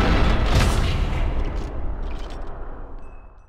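A single sniper rifle shot from the World War II shooter Sniper Elite 4, fired across a long distance: one heavy, booming blast that rolls off into a long, fading echo over several seconds.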